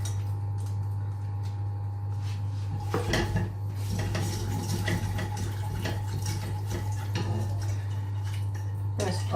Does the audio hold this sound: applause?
no